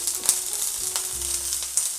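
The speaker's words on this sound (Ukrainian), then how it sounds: "Перекладуємо на сковорідку спаржу." Asparagus sizzling in hot olive oil in a frying pan, a steady close crackle with a few sharper pops and a low hum underneath.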